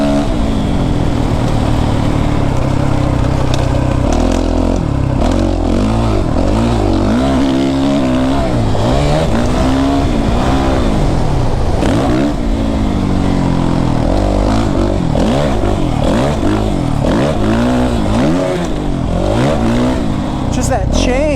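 A Suzuki RMZ450 dirt bike engine runs loud and close on a first ride, rising and falling as the throttle is worked, its revs sweeping up and down continuously with rumbling and rattling throughout.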